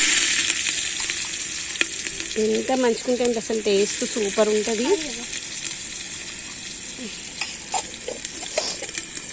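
Mustard seeds and cumin sizzle and crackle in hot oil while cooking over a wood fire outdoors on a terrace garden, a steady loud frying hiss under a woman's speech.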